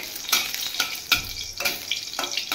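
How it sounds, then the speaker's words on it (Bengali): Dried red chilies fry in hot oil with a steady broadband sizzle, punctuated by several sharp spatula scrapes and knocks against the pan, close up and with no voices. "এদিকে আমার তেল গরম হয়ে শুকনো লঙ্কাটাও ভাজা হয়ে গেছে।"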